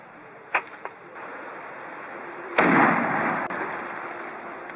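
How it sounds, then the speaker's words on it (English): A homemade pipe shotgun fires a magnum shell outdoors: a couple of small clicks come first, then one sharp, loud blast whose broad, rushing tail slowly fades. "There's visibly more recoil here, as there's no longer gas venting out the back."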